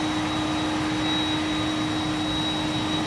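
Steady, unchanging roar of a jet aircraft on approach at East Midlands Airport, with a constant whine over broad noise, moderately faint and continuous throughout.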